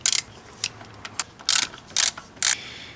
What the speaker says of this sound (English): I'm going to remove this thermostat housing, which is held in place by two 10 millimeter bolts.